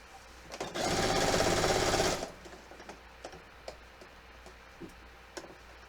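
A sewing machine stitches a cape in one loud, steady run of about a second and a half, then stops, leaving a few faint ticks and small handling clicks in a quiet room.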